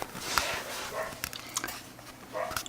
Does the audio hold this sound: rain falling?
no